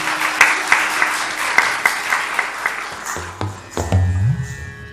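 Audience applause at a Kathak dance performance, a crowd clapping steadily for a few seconds before it fades and a low hum comes in.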